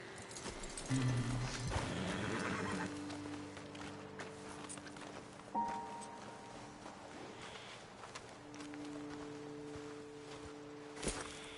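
Horse hooves in Red Dead Redemption 2 clop along unevenly, then slow and fade, with a loud snort or stamp near the end; no voices, just quiet outdoor ambience.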